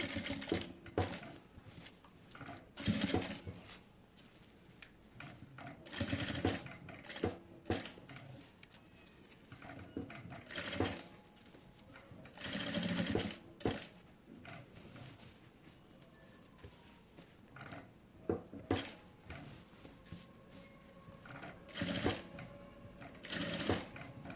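A sewing machine topstitches a neckline in repeated short bursts of rapid needle chatter, separated by brief pauses, heard close and fairly quiet with no talking.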